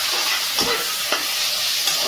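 Taro greens with chilli powder frying in a pan and being stirred, a steady hiss of sizzling oil broken by a few sharp scrapes of the spoon against the pan, close and fairly loud.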